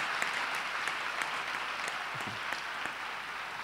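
A church congregation applauds steadily to cheer the Lord during a French-language Wednesday teaching service, a continuous wash of clapping from many hands, at moderate volume in a reverberant hall.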